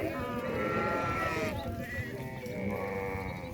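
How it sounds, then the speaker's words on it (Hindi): A large flock of sheep, several hundred head on a farm in Talagang, bleats continuously in overlapping cries, loud and close, with someone talking over the animals. "400-450 भेड़ है जी इनके पास, क्या बात है।"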